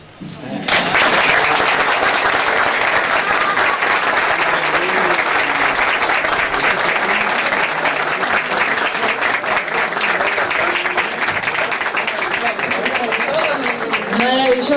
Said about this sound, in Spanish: renovemos el aplauso, fuerte, fuerte el aplauso para Celia